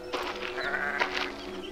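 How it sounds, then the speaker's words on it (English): Sheep bleating in the fantasy video game Grim Legends 2: Song of the Dark Swan, a single wavering, drawn-out bleat heard close and clear over a steady low game ambience, with no talking. "Poor sheep is too scared of the dragon to come out."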